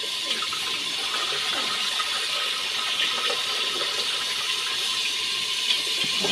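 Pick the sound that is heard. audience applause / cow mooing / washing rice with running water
washing rice with running water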